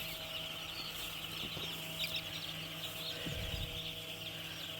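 Faint chickens cluck in the background of an automated poultry farm over a steady mechanical hum, with soft scattered calls throughout.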